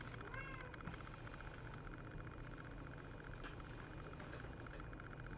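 A cat meows faintly indoors, a short quiet call early on, against a steady background hiss with soft patter.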